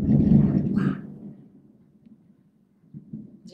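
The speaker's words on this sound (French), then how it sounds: "il y a des éclairs et vraiment là, ça gronde super fort" Storm thunder rolls as a deep, low rumble that fades into quiet, and a second fainter rumble arrives near the end.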